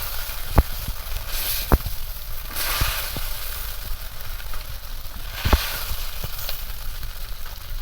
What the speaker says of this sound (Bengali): এইভাবে একটু চাপ দিয়ে দিয়ে মাছটা ভাজলে মাছ ভাজা একদম পুরো মজমজে হয়